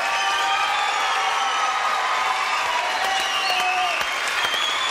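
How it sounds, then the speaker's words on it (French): Sustained audience applause fills the whole stretch at a French television variety show, a dense, even wash of many hands clapping with a few cheers mixed in, loud and continuous without pause. "Applaudissements pour Monsieur Lafont encore, s'il vous plaît."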